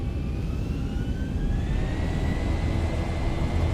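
A Boeing 737-800 in X-Plane 11 spools up to takeoff power with a steady, loud jet roar, a deep rumble underneath, and a whine that rises slowly in pitch. The engine noise is continuous and fills the whole stretch with no talk over it.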